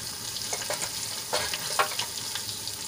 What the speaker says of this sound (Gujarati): મરચાને લસણને થોડુંક સાંતળી લઈશું 1/2 મિનિટ માટે.